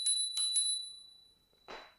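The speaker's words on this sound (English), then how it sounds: "Good little bell though. Really good little bell." A small bicycle bell rings three quick bright dings that ring out and fade, followed by a soft brief rustle.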